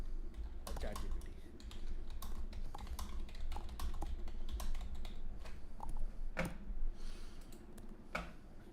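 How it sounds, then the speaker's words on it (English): A loud computer keyboard is typed on in rapid irregular bursts of sharp clicks, close to the microphone, continuing steadily throughout. "You got that loud keyboard, bro."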